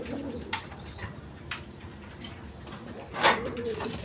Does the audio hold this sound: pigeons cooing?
yes